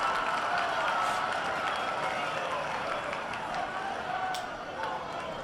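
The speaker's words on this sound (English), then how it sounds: "you could hear the crowd erupt when he was able to make a defender miss" Crowd noise at a high school boys' soccer match between Conway and Catholic, a steady broad roar of spectators cheering throughout with a slight swell early and a gradual easing toward the end.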